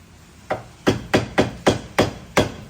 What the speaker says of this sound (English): Hopefully we're gonna hammer it up in the side of here.